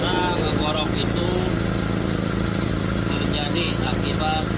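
A pickup truck engine with a large exhaust leak runs in a workshop, giving a rough, rasping, snoring roar that holds steady throughout, loud and close, while voices talk intermittently over it.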